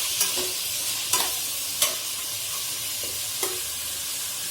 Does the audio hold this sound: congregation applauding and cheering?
no